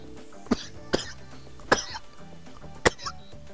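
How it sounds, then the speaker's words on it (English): Four sharp coughs from one person, close to the mic and spaced unevenly over a few seconds, with quiet background between them. "Still the coughs."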